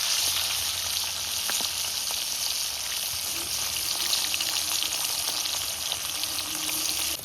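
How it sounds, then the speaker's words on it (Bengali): Fresh fish frying in hot oil gives a steady, close, crackling sizzle with small pops, heard on its own without talk. "তেল গরম হয়ে গেছে, মাছ দিয়ে দিচ্ছি"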